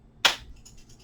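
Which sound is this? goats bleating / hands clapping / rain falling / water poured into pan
hands clapping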